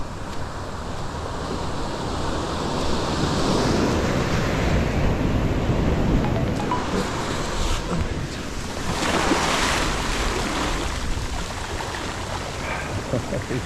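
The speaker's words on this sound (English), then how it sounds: "These waves. Come on." Ocean waves on a beach, a continuous rushing surf that swells and recedes in two broad surges, loud and close with wind buffeting the microphone.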